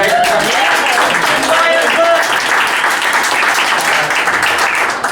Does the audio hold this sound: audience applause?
yes